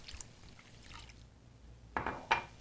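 Water poured into a skillet mixture of canned diced tomatoes and sour cream for a sausage noodle dish: two short, splashy pours near the end, after a quiet stretch of faint kitchen noise.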